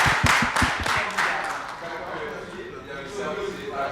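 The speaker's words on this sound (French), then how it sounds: "Applaudissements pour vous." An audience breaks into several sharp, rhythmic claps at the start, then fades into looser scattered clapping and murmuring voices at a televised event.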